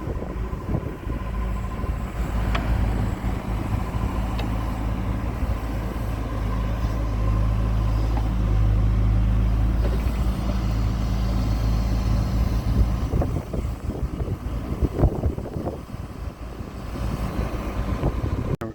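Heavy ditch maintenance equipment running at Rocky Ford, a loud, steady engine rumble that continues throughout with shifting mechanical noise as it is driven around close by.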